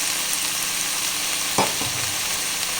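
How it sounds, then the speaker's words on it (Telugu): Soaked moong dal drops into a frying pan with hot oil, a brief sharp burst of sizzle and a scrape as it lands, then a steady close frying hiss. "ఇప్పుడు నానబెట్టిన పెసరపప్పు నీళ్ళల్లోది దిగి వేస్తున్నాను నేను"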